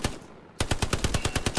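Sustained automatic machine gun fire in the video game Hell Let Loose, a rapid string of about a dozen loud, evenly spaced bursts starting after a short quiet lead-in.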